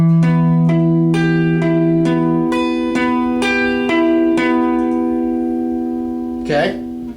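Clean guitar picking a song's riff, single plucked notes ringing in a steady sequence over several seconds, close and clear with no talking.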